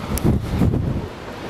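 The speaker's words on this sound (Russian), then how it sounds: "господи, сильный ветер-то какой" Strong wind from a storm in Moscow buffets the microphone in heavy low rumbling gusts, loudest in the first half, with a steady roar continuing throughout.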